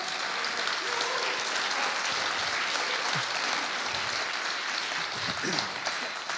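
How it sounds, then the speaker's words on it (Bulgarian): Audience applause at a tech monitoring talk, a broad steady wash of clapping from a sizable crowd throughout, with a few faint voices underneath. "Моля ви за силни аплодисменти"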